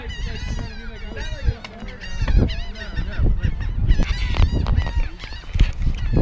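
Geese honk repeatedly in loud, overlapping calls at a shoreline littered with shells, close and busy, mixed with human voices and scuffling noises.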